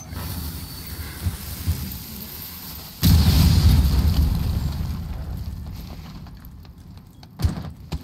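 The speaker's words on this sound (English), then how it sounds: "Oh, bad flash." A flash grenade goes off in Rainbow Six Siege as a sudden loud broadband burst that decays over several seconds, followed by a smaller thump near the end.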